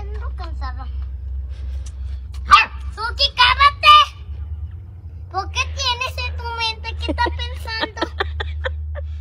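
A small dog yaps and barks in bursts amid a voice and other talk, over a steady low rumble like a running car engine.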